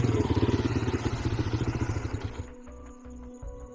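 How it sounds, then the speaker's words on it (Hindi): A motorcycle sound effect in a horror story podcast: a near, chugging engine with rapid rhythmic pulses as the bike rides off, then easing to a quieter, lumpier idle. "करण और ब्रजेश बाइक पर बैठकर उस भूतिया कॉटेज की ओर जाने वाले रास्ते पर चल पड़े"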